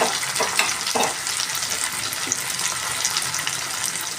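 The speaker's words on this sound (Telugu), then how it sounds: "పుదీనా కూడా బాగా దీంట్లో ఆయిల్లో ఫ్రై కావాలండి" Washed mint leaves fry in hot oil for a mint chutney, producing a dense, loud, even hiss of sizzling with a few small pops and crackles near the start.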